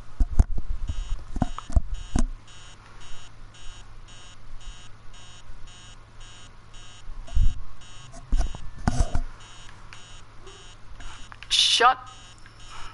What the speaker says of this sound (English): That alarm clock is so annoying.